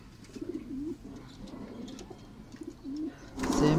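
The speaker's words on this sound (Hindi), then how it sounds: "ये बहुत ही हमारे अच्छे रिजल्टेड कबूतर हैं।" White golden pigeons coo in soft, repeated rolling phrases, fairly close but quiet, ending in a louder burst of rustling noise.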